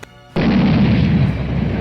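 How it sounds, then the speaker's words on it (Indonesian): A single loud, sudden explosion as two fire attacks collide, bursting in abruptly after a brief quiet moment and then sustaining a dense, rumbling roar that fades only slightly. "ledakan akibat beradunya dua tembakan pun terjadi"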